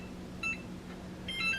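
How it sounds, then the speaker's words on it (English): A kitchen timer gives a couple of short, faint electronic beeps, one and then another pair, while it is set for an hour during donut-dough preparation, over a steady low hum. "set the timer for an hour."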